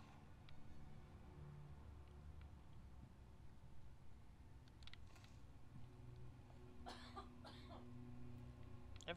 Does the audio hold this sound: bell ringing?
no